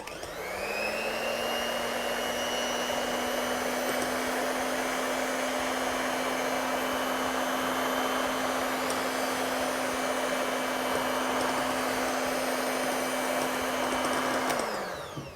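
Electric hand mixer whipping cream for chocolate mousse, a loud steady motor whine that spins up at the start, holds an even pitch throughout and winds down at the end, with no talking.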